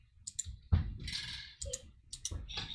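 Computer mouse clicks while rigging a 2D character in Unity 2020, a few sharp close clicks spaced apart with soft handling noise between them, no talking.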